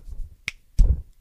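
A single crisp finger snap rings out close and sharp in a quiet room, followed shortly by a duller, heavier thump.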